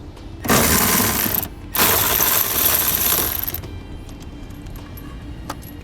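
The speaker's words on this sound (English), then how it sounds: "It's going to have a 13 millimeter head, and we're going to want to remove that bolt." A 13 mm bolt is being removed from a brake arm housing on a 2017 vehicle with a ratchet, heard as two bursts of loud, rapid clicking up close. Faint metallic ticks follow.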